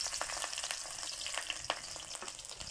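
Garlic sautéing in a pan for adobo of chicken liver and gizzards, a steady broadband sizzle with scattered stirring clicks and pops, close and moderately loud, with no voices.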